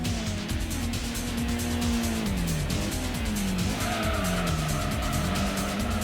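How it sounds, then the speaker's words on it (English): Car tires squealing into a slide in Gran Turismo on the PS1, a sustained wavering skid screech over a steady engine drone, close and loud. "Right into a slide."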